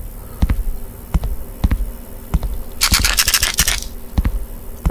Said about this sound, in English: And the flashlight makes noise